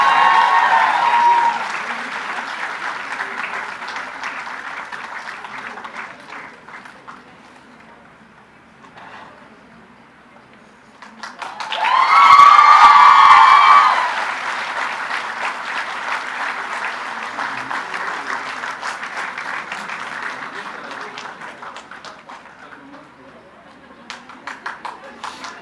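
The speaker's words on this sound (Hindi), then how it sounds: "बहुत सारी तालियां इनके वालिदैन के लिए।" An audience at a gold medal ceremony applauds the medalist's parents with sustained clapping under talk, dipping to near quiet midway before swelling loudly again and trailing off.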